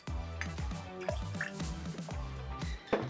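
Sugar syrup, 22.5 ml of it, trickles from a bottle into a pisco cocktail, a soft close gurgling pour with rising liquid tones and faint drips, quiet and alone.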